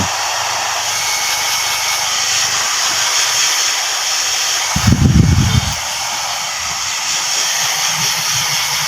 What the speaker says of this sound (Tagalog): tapos blower ko natin guys